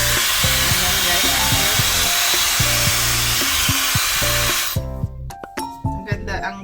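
An Infinity V12 high-performance hair dryer blows with a steady loud airy whoosh for most of the span, then cuts off abruptly, leaving a voice talking over the motor's fading tail.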